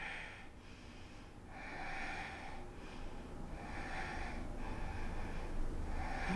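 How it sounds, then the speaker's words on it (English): Slow, deep breaths drawn in and pushed out through the nose during a yoga pose, audible rhythmic inhales and exhales over a steady background hiss with no talking. "Breathe deeply."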